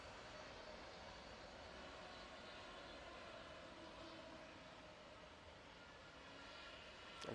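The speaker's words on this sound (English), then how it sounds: "can hear those Pratt and Whitneys on that Turkish singing as it comes onto the runway." A Turkish Airlines jet with Pratt & Whitney engines comes onto the runway at Manchester Airport, giving a steady broad engine roar that holds even and fairly distant throughout.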